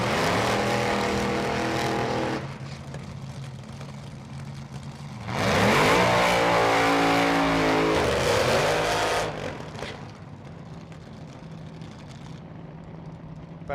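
A top alcohol dragster doing a burnout at a drag strip qualifying session: loud, roaring engine with a sustained blast, a dip, then a second harsh surge of revving before fading away.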